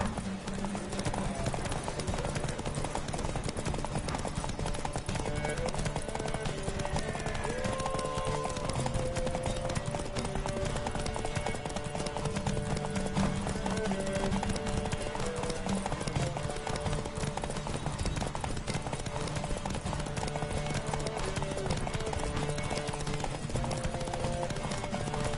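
A horse gallops in a race in The Witcher 3, rapid rhythmic hoofbeats drumming steadily and loudly for a long stretch under game music and ambience.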